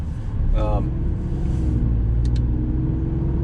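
A light 2021 Opel Corsa drives on back roads, its low engine rumble and road noise steady and close throughout, with someone talking over it.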